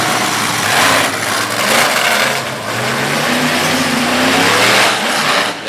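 A monster truck engine roars and revs at full volume inside a small arena at a Durham, Connecticut event as the driver turns the truck around for freestyle, its deep rumble rising and falling continuously.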